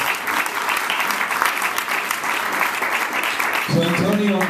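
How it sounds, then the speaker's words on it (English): An audience bursts into steady, loud clapping to welcome two exchange-program interns at a Denver startup pitch gathering, with the applause thinning as a voice starts speaking near the end. "Let's have a big round of applause and welcome."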